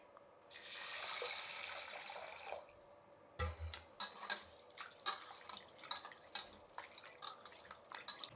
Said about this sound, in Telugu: ఇప్పుడు పప్పు కడుక్కుందాం